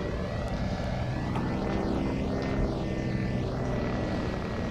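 Twin engines of an Aero Commander AC68 in a flight simulator, a steady loud propeller drone with sweeping pitch shifts while taxiing on the ground.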